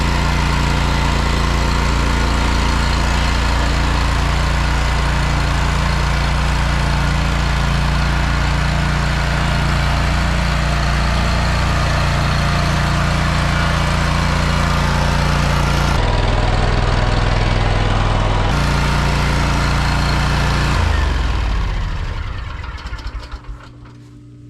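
A ride-on lawn mower mowing a lawn in the morning, its engine droning loud and steady up close with a brief change in pitch, then winding down and cutting off at the end.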